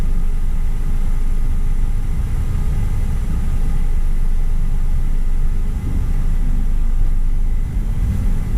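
Heavy traffic on EDSA heard from inside a vehicle, a constant low rumble of idling and crawling engines, loud and unbroken with no talk.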